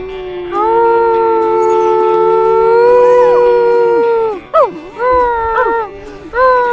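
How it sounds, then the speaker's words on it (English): A dog howls loudly in long, wavering drawn-out notes, then breaks into shorter rising and falling yowls. "Zamboni also loves to howl."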